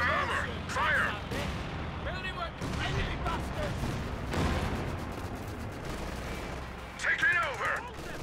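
Tank guns fire at enemy armor in the Company of Heroes 2 video game, with several sharp booming shots and crackling gunfire across the stretch and voiced in-game callouts over the combat.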